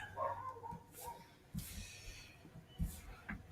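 A neighbour's dog barks and yips in short, faint bursts at a distance, scattered across the moment. Low background rumble sits underneath.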